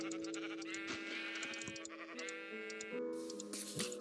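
A sheep in the Minecraft video game bleats in short repeated calls, loud and close, over layered game music with no talk.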